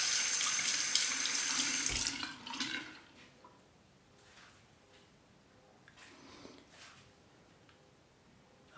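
Running tap water rinses a Merkur safety razor, splashing loudly in a sink for about two seconds before cutting off, followed by faint drips and quiet handling.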